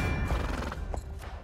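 Roach the horse neighing when played as a card in the Gwent card game: a short, close whinny with hoof clip-clop, loud and brief.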